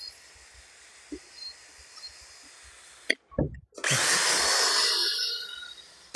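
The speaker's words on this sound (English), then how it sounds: "to hold this drill with 2 hands, it is much easier, and then it won't kick on you" A power drill whirs steadily and loudly for a couple of seconds after a brief clunk, with faint background noise before it starts, during headlight restoration on a 2014 Honda Accord.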